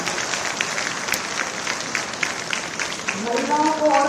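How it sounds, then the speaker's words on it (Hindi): An audience claps at a felicitation event in Jaipur honoring the Chief Minister over women's reservation, a dense wash of steady applause, with a voice speaking over it toward the end. "तो आप सब लोग तो बहुत सशक्त होने वाले हो, तो जोर से ताली बजाओ"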